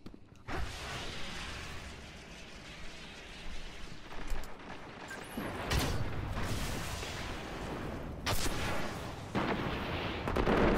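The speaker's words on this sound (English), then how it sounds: "My rocket hits a guy and it doesn't kill him?" Rocket launches and explosions from the Iron Banner mode of the video game Destiny come as repeated heavy blasts and booming bursts over a rumbling battle backdrop, loud and close, with sharp whooshing impacts near the middle and end.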